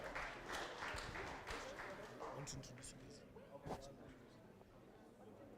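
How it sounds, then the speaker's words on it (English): Audience applause for student council treasurer candidates at a university debate, a steady crowd clapping that carries through the whole stretch and slowly thins toward the end. "I'll give a round of applause to the candidates vying for treasurer"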